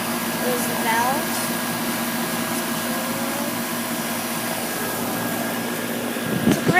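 Bryant air conditioner outdoor unit at a lake house runs with a steady, continuous broadband whir and hum from start to finish, fairly loud and close, with a brief rustle near the end.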